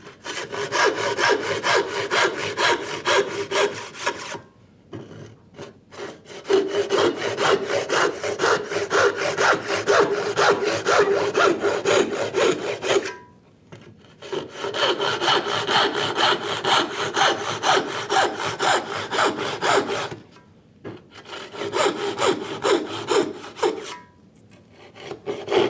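Hand saw cutting wood for a dovetail guide, a rhythmic rasping of quick, even strokes in long continuous runs, broken by brief pauses, loud and close with no talk.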